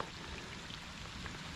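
Rain coming down outdoors in Texas, a soft continuous patter and hiss of drops on the ground, even and unbroken for the short stretch, with no voices.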